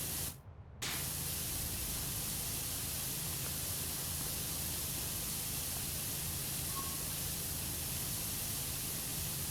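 Steady pressure washer spray in the video game PowerWash Simulator, a loud continuous hiss of water running unbroken through the whole stretch apart from one brief cutout near the start.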